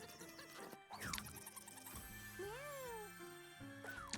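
Kitten meowing in the roguelike video game Mewgenics, with a short rising-falling meow near and clear over game music and sound effects.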